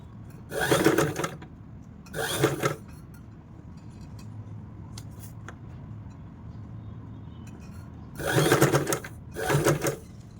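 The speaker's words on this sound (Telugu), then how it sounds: "ఇలా ఒక్కొక్కటి పెట్టుకుంటూ స్టిచ్ చేసుకోవాలి నీట్గా" A sewing machine stitches a neck design in four short, close bursts of rapid whirring, two near the start and two near the end, with quiet stretches and faint handling noises in between.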